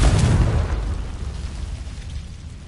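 A Confringo fire spell in Hogwarts Legacy bursts with a loud, close boom, then a rumbling roar slowly tails off over a couple of seconds, heard alone.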